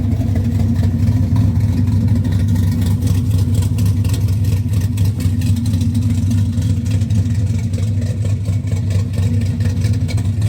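A 1953 Plymouth Cranbrook pro street car with a 383 stroker engine, its deep, rough idle rumbling steadily and loudly at close range with no talk.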